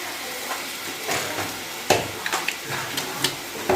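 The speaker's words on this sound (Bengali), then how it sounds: "হলুদ গুঁড়ো ভালো করে মশলাটা কষে নি যাতে কাঁচা গন্ধ না থাকে" Turmeric-spiced masala sizzles steadily as it fries, with intermittent scraping stirs breaking through the continuous close hiss.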